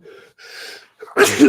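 A few breathy inhales build up before one sharp, loud sneeze bursts out at the end.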